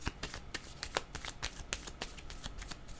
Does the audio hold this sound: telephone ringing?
no